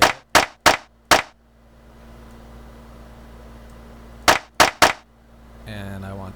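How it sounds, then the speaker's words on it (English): Sharp clap samples for a beat, doubled with a snare: three quick hits, a pause with low hum, then three more close together, and a short burst of tonal sound at the end. "I think we'll go with that clap"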